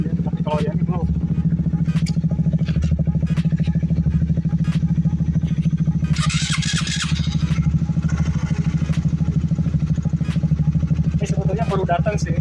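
A cold Honda CBR K45A motorcycle on its stock exhaust idles steadily and close while warming up, its even mechanical chug running throughout as someone talks over it.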